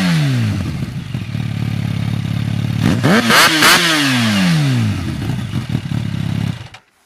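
Kawasaki Ninja H2 motorcycle engine revving nearby, a loud sustained roar that sweeps up and down in pitch with several sharp throttle blips midway, ending abruptly as it cuts off.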